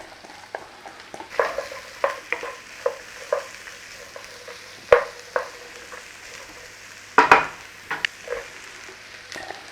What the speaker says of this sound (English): We're going to saute the onions, the garlic, the celery and the apple